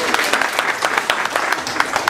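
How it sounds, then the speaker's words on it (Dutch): Audience applause for a boy at a Sinterklaas party, steady close clapping from a crowd filling the whole stretch without pause. "Applaus voor deze jongen."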